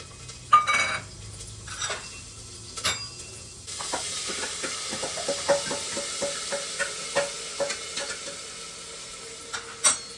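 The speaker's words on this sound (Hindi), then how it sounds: "अब इसमें मैं जीरा डालूंगी और ये ग्रीन चिली" Cumin seeds and green chili dropped into hot ghee burst into a steady close sizzle, with repeated light clinks and scrapes of a spoon against the pan through the frying, no voices.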